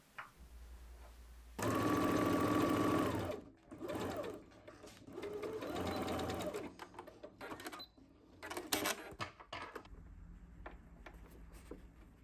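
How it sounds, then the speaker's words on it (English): A sewing machine runs in several bursts stitching the side seam of a sleeve on a bubble frock, a fast even motor whir with rhythmic needle clatter, starting and stopping, fairly close and alone. "sew up the side seam with the hem unfolded and press that side seam open."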